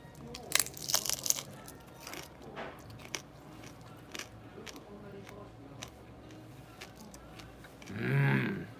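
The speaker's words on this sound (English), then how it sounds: "I'm taking big bites" Big bites into a footlong fried shrimp at a Japanese restaurant bring loud, close crunches of the crisp batter, then softer chewing, with a voice breaking in near the end.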